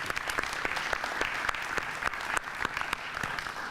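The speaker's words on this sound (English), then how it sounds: "So let's give it up for them." Audience applause at a youth employment program announcement in Detroit, a dense steady wash of many hands clapping with sharp individual claps standing out, sustained throughout at moderate loudness.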